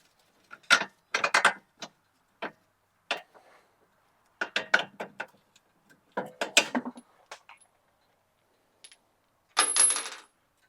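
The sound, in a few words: removing bolts from Honda Civic wheel hub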